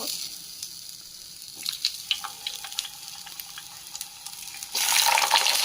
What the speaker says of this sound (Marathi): पॅन गरम झाला, त्याच्यामध्ये आपण ॲड करू घी, टाकू रताळ्याचे काप